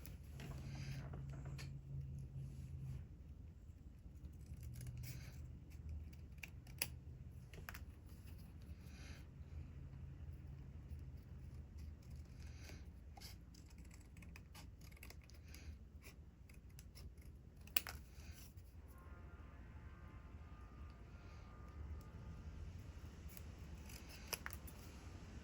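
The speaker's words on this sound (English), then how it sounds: "I'm just gonna cut them right from here" Scissors cutting through thick paper for a stained glass journal page, a quiet series of crisp snips and slicing rasps scattered irregularly across a hushed room, close and soft with no talking.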